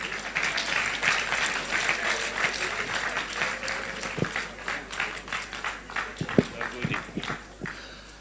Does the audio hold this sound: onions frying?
no